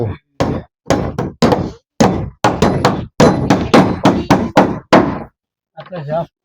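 Hammer driving nails during house construction, a run of about a dozen sharp, loud knocks in quick irregular bursts, with a brief pause before a final softer strike.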